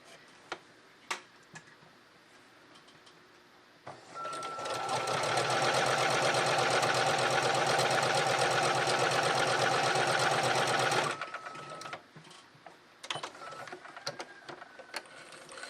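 A domestic sewing machine fitted with a Hello Hobby needle stitches in one continuous fast run of about seven seconds, loud and close, with quiet clicks and handling noises before and after.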